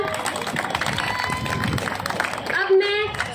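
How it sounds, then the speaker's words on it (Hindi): An audience at an Independence Day celebration in an academy claps in a dense, sustained round of applause while a presenter speaks over a microphone. "जोरदार तालियां"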